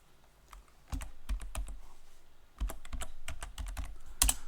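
A computer keyboard clicks as a password is typed, delivered in two short bursts of quick, close keystrokes separated by a pause, with a louder final key tap.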